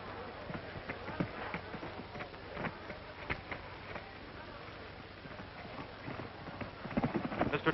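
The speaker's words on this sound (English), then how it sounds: "Mr. Tom Ford and his famous horse Champion, one of the world's finest trained animals" Tom Ford's trained horse Champion clip-clopping, hoofbeats tapping in a steady rhythm, fairly faint, with other sounds in the background.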